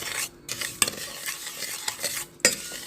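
A spoon stirs cooking oil and sugar in a pan with close scraping strokes and a few sharp clinks against the metal over a low sizzle, with no voices.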